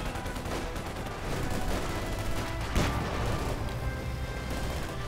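Grenades going off in a Company of Heroes 2 match, heard as a dense run of muffled booms and crackling gunfire over continuous battlefield rumble, with one sharper blast near the middle.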